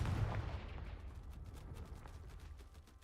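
A Confringo fire spell blast in Hogwarts Legacy bursts loudly at the start, a deep booming explosion that rolls off into a long rumbling, crackling decay.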